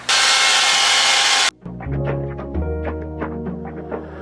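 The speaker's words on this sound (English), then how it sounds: "so now let's dry this hair" A hair dryer blasts loudly on hair for about a second and a half, then cuts off abruptly, leaving music playing underneath.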